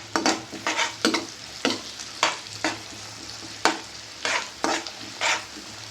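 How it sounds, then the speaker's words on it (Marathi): Onion sautés over high heat in a large pan for traditional pav bhaji, a steady sizzle broken by regular scraping strokes of a stirring spoon roughly every half second, close and fairly loud with no voices. "कांदा व्यवस्थित परतून घ्यायचा."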